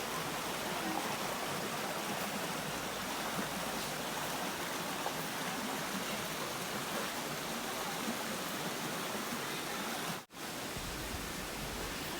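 Water flows steadily in a nearby clear, cold stream beside a café in Chiang Mai, Thailand, a constant broadband rushing hiss with no voices, briefly cut out once near the end.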